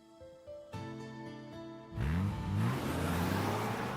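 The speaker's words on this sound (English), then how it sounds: "Loken's ride is a prime example of a second-hand modified car. It's loud and shaky." A loud, shaky second-hand modified car in the Aether Gazer video game roars in after a moment of music, its engine rising in pitch and then holding a steady, rough drone close by.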